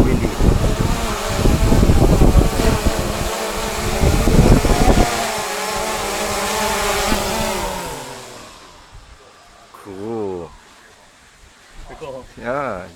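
Gusty wind buffets the microphone during a drone flight, a loud broadband roar and rumble for the first several seconds that eases off, with voices talking over the later part.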